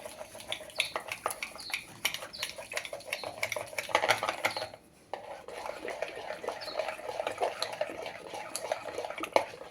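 A utensil stirs thick cream by hand in a pot to make butter, with steady scraping and sloshing strokes, close and continuous, briefly pausing midway before resuming.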